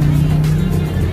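A motorcycle sidecar tricycle built as a rolling street food cart runs its engine close by, a steady low idle-to-rev drone with no clear rises, over a short burst.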